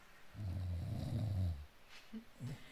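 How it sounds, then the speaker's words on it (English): A man snores loudly in the video game A Bavarian Tale, one long, heavy rasping inhale followed by quieter snuffling breaths, close and alone with no talk. "You're not sure whether you can still call the sound snoring or whether it's more like a sawmill"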